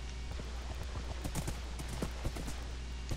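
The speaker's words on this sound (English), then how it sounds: "Now he is my horse. And he has a saddle. And now I can ride him." Hooves of a saddled horse being ridden in Minecraft clop in a quick, steady patter over a constant low ambient hum, close and moderately quiet, with no talking.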